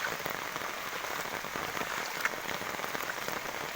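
Heavy rain pours down steadily during an Assam flood, a dense, even hiss of drops striking surfaces nearby and continuing without a break, with no talking.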